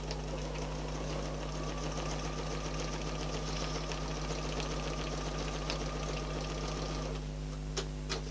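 A sewing machine stitching a quilted table runner with ruler quilting, running steadily at a constant humming, rattling pace throughout, close and alone with no talking.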